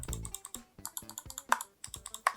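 Rapid sharp clicks in uneven bursts, close and crisp, from the buttons of a Bloody R90 Plus wireless gaming mouse being pressed repeatedly, with no talking.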